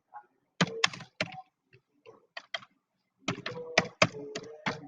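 A name is typed on a computer keyboard in quick clustered bursts of sharp key clicks, with pauses between groups, close and fairly clear.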